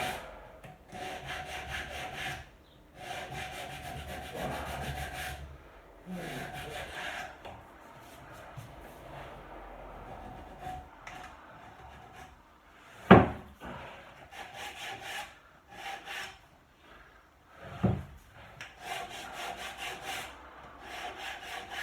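A hand saw cuts wood for a dining table in a series of rhythmic rasping strokes. The strokes come in bursts with short pauses between them, and two sharp knocks break in partway through.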